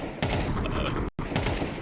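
Loud, dense gunfire from a Counter-Strike match in a BLAST Bounty 2025 esports broadcast, a continuous burst of shots briefly cut by a gap of silence, then resuming, with no speech.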